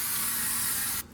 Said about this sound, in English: I'm going to spray along the front where it was before